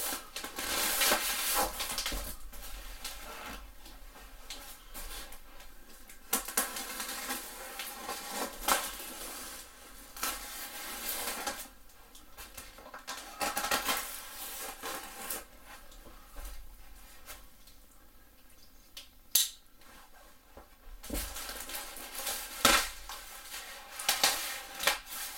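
A cardboard box holding a 20 kg Titan Fitness competition kettlebell is cut open and its styrofoam packing pulled apart, with repeated scraping, tearing and crunching bursts at close range and brief pauses between them.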